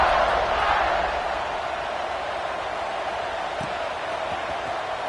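A steady roar from a large American football stadium crowd just before kickoff in a Notre Dame versus Clemson game, a dense and sustained wash of noise that eases slightly after the first second.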